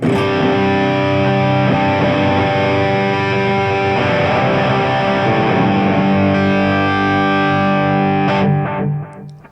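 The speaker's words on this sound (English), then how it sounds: "Lots of gain, massive reverb, massive delay." High-gain distorted electric guitar through a Valeton GP-200X patch drenched in massive reverb and delay, sustained chords droning loudly for several seconds before fading out at the end, with no talk.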